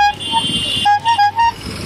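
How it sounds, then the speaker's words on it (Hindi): A bike-tour bicycle horn sounds in several short toots, close and loud, amid street noise in Amritsar. "और सबसे अच्छा है ये हॉर्न"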